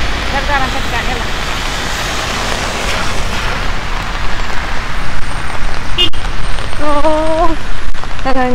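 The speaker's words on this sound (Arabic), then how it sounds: "طبعا جالسة تمطر" Heavy rain hisses steadily throughout in Mecca, growing louder partway through, with brief chirps and a sharp click near the end.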